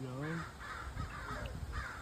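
Crows caw several times in a short series of harsh calls, moderately loud and somewhat distant, mixed with faint background voices.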